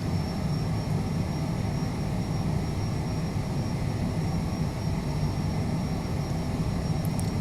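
In a flight simulator game, the engines of a CJ4 business jet run at takeoff power, giving a steady, dense roar with a constant high whine, loud and unbroken throughout.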